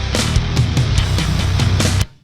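A snare drum cracks repeatedly within a full music mix, about six sharp hits at a steady groove over a thick low end, the whole passage cutting off abruptly at the end.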